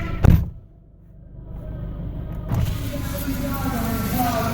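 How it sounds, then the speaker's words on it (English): A driverless car circles on its own at a stunt driving show at the Royal Adelaide Show, a steady engine hum and rumble with a sharp thump near the start, while people talk over it. "the car will do a couple of circles by itself and then stop"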